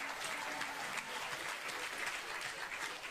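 On the RocKwiz music quiz show, a studio audience gives a dense, even round of applause, heard at low volume and without any talking over it.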